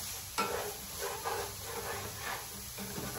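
Vegetables and shrimp stirred into a sizzling pan of dirty rice, giving a steady soft frying hiss broken by a few stirring scrapes and clatters, close and fairly quiet, with no talking.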